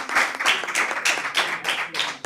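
An audience claps for Coach Allen at a school board meeting, a short burst of steady applause from a roomful of people, fairly loud and close, with no talk over it.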